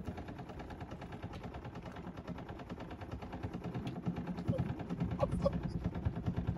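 Sailboat engine running at sea, a low rapid chugging pulse that grows slightly louder toward the end, with some indistinct talk under it.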